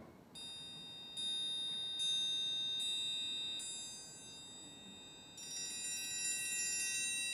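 Bright metallic ringing tones of a triangle, struck several times with sustained shimmering overtones, fairly close and alone without voices.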